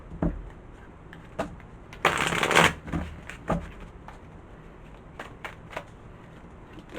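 A deck of tarot cards is shuffled close up, with one dense riffling burst followed by scattered soft taps and slaps of cards in a quiet room.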